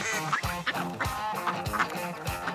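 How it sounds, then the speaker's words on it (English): Pet store ducks in a small pond, a dense chorus of repeated nasal quacks overlapping from several birds, close and lively throughout with no talking. "Boys, we got a bunch of happy ducks in this little old pond."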